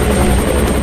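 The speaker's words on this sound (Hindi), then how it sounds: "कैप्टन, हेलीकॉप्टर को चारों तरफ घुमाओ।" A helicopter in a dubbed Hollywood action film roars loud and steady with a pulsing rotor thrum, alone without voices, in a brief burst under a second long.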